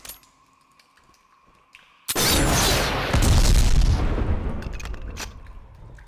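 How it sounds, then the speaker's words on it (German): A rocket launcher blast in a video game erupts after two seconds of quiet, faint game sounds, then a loud, booming explosion with a long rumbling tail that slowly fades. "jetzt kommt eine Stelle, wo wir einen Raketenwerfer sogar benötigen"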